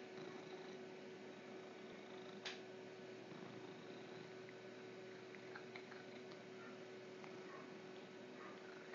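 A cat purrs while sitting on someone's lap during typing, a very faint, low, continuous rumble close by, with a few light ticks and taps over it and no talking.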